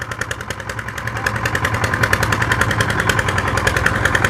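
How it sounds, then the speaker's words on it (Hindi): A tractor engine chugs steadily up close beside a mixer at a road shoulder construction site, its rapid, rhythmic knocking pulse growing slightly louder over several seconds. "अभी ट्रैक्टर भी वापस आ चुका है यहाँ पर"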